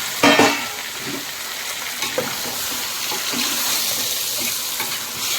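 About one and a half kilograms of chicken fries in a pan for biryani, with a steady sizzle throughout and occasional scraping and clinking as it is stirred, and no one speaking.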